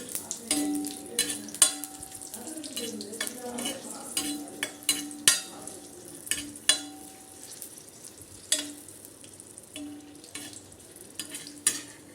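Curry leaves sautéed with a few chillies in a metal pan for curry-leaf thokku: a light sizzle under frequent spoon scrapes and clinks against the pan, with a faint ringing tone from the metal, up close.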